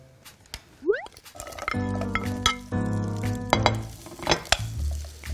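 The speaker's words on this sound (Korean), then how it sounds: "여기에 이제 감자를 볶아주도록 할게요" Potatoes stir-frying in oil in a pan, a close sizzle under clinks and scrapes of a utensil against the pan, with some spoon clatter in between.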